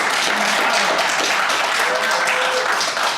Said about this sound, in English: You're just applauding because we did it in a short amount of time, right?